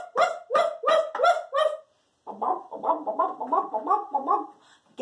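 A hen clucks in five sharp, evenly spaced bursts, pauses, then breaks into a quicker run of chattering clucks, close and clear.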